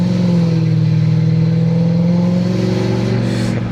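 Mercedes-Benz E500 W211 with its V8 engine revving from inside the car, a deep, steady, loud engine drone rising slightly in pitch over a few seconds, no voices.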